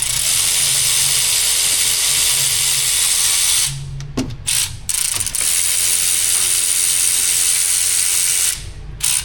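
Ratchet wrench removing bolts from the Eaton rear differential on a Ford Super Duty 6.0, rapid clicking bursts close up, broken by short pauses and then resuming.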